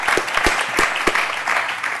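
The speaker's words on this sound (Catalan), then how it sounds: "Aplaudim" Audience applause at a professional conference session, brief and steady, with a few distinct nearby claps standing out over the general patter.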